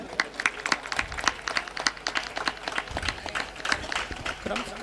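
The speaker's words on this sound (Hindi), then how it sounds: "जोरदार ताली बजाए।" An audience claps steadily at an outdoor three-day devotional Manas singing gathering in Khajri, a dense patter of hands with a few louder bursts and murmuring voices underneath.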